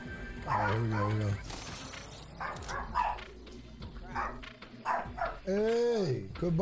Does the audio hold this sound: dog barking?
yes